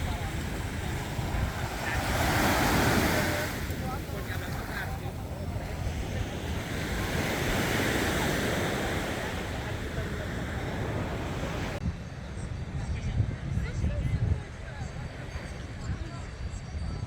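Waves breaking on a beach at Playa Puerto Nuevo on Puerto Rico's north coast, a broad rushing surf that swells and recedes with wind noise, while a voice talks over it.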